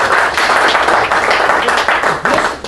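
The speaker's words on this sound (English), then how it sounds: "All right, folks, if there are no questions, big round of applause." An audience at an evening meeting on data centers applauds, with steady, dense clapping that holds for a few seconds at close range.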